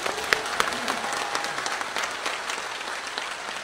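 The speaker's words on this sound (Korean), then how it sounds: "김대중 대통령께 큰 박수를 부탁드리겠습니다" An indoor audience at a political lecture claps in a steady burst of applause honoring President Kim Dae-jung, fairly soft and mid-distance, with no voices.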